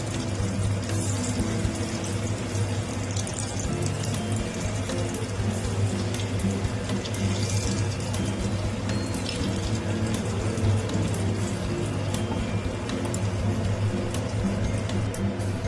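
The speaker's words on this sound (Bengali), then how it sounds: "তেলটা গরম হয়ে গেছে। এবার আমি এক এক করে ছানাগুলোকে দিয়ে দেব।" Chhana (cottage cheese) fritters deep-fry in hot oil, giving a steady, even sizzle and crackle that holds at a moderate level throughout with no talk.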